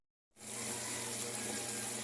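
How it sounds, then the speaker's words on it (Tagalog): Water splashes into a pan of simmering chicken adobo, starting suddenly after a brief silence and continuing as a steady, close, hissing pour. "lalagyan na natin ang tubig para maya balikan na lang natin"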